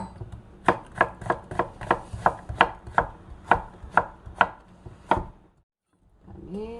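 A knife julienning zucchini on a wooden cutting board gives about a dozen crisp, evenly spaced chops close up, followed by a brief silence and then a voice.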